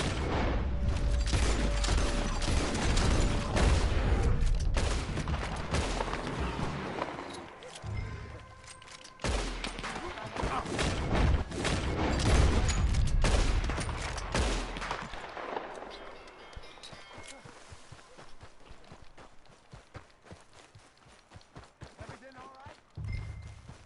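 Rapid gunfire crackles in Red Dead Redemption 2, with dense bursts of shots and impacts under game music and shouting voices, fading to scattered sounds toward the end.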